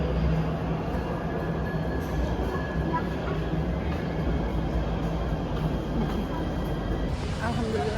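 Jakarta MRT metro train ride, a steady loud rumble of the moving carriage with faint wheel noise throughout, and people talking in the background.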